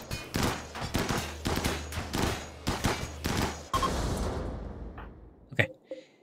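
Colonists in the RimWorld video game shoot together in a loud volley of rapid, overlapping gunshots that ends in a few scattered pops.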